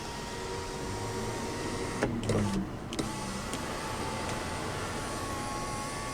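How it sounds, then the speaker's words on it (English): Power sunroof motor on a 2003 Toyota Sequoia Limited 4WD, a brief whirring run of about a second in the middle, over a steady background hum, no talk. "power sunroof controls, one-touch automatic"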